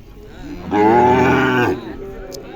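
A Sahiwal cow at a cattle show for BRAC-bred breeding stock lets out one long, loud, close moo lasting about a second, with quieter barn ambience before and after.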